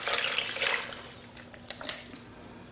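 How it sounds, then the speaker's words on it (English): Chicken stock pouring into a slow cooker, a brief splashy liquid rush at the start that tapers into lighter trickles and a few drips, close and fairly quiet. "And then I'm going to add 2 cups of chicken stock"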